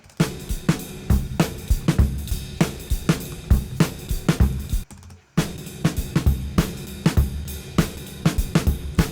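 A punchy lo-fi drum loop with sharp, evenly spaced hits and a steady beat, briefly cutting out midway before the pattern resumes.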